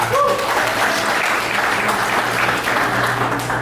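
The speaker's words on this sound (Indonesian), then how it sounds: "tepuk tangan untuk tamu kita" A crowd claps steadily at an Indonesian Pancasila Day event, a dense and continuous round of applause for guests that holds at an even level throughout.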